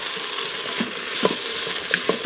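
Beef returned to a pressure cooker with softened garlic for German goulash, a close steady sizzle broken by several clinking stirs of a utensil against the pot.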